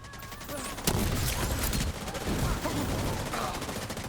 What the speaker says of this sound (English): I'm gonna 3-shot that gal, set her on fire.